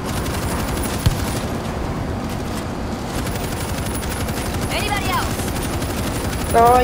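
Rapid machine gun fire in World War Z on the New York train level, a dense, continuous rattle of shots that never lets up, with voices faintly underneath.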